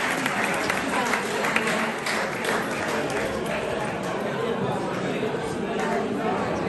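Applause with crowd chatter at an award ceremony honouring Angelo Squadrone, a masters runner, in September 2022. The clapping is dense and steady, mixed with voices, and keeps an even loudness for the whole stretch.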